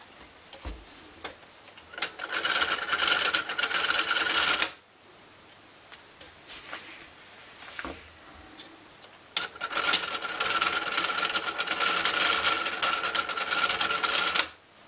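The striking mechanism of a handmade wooden clock after John Harrison's design runs with a brass hook dropping into wheel slots, giving two long stretches of dense, busy ticking and whirring separated by a quieter pause.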